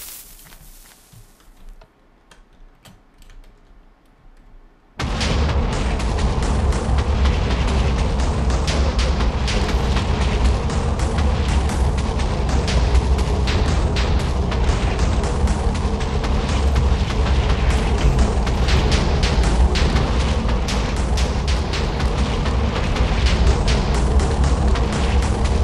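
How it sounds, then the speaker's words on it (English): Red matter explosive detonating in the Minecraft ICBM mod video game, a sudden loud roaring blast after a few seconds of quiet, then a sustained dense rumbling destruction that stays loud to the end. "Now this one is called the red matter explosive."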